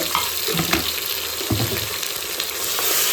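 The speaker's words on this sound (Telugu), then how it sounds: "ఇవో ఇవి వేగిపోయినాయండి గోల్డెన్ కలర్ చేసినాయి ఉల్లిగడ్డలు అయితే ఇందులో ఇది వేస్తున్నా అల్లం అల్లమల్లిగడ్డ" Onions fried golden in a pan as ginger-garlic paste goes in, a close bubbling sizzle with a few clatters and a watery splash-like hiss.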